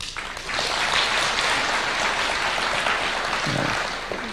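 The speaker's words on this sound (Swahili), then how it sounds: "Naona Vice Chancellor ndiye anapiga makofi zaidi." A crowd at a speech by the president addressing Methodist bishops claps in dense, steady applause that swells after a moment and holds loud and continuous, with the Vice Chancellor among those clapping.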